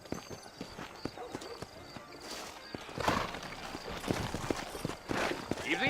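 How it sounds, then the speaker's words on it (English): Horse hooves clip-clop at a trot, close by, with a horse whinnying and faint voices in the background, in the video game Red Dead Redemption. "You ain't gonna find sturdier horses than these in all of New Austin."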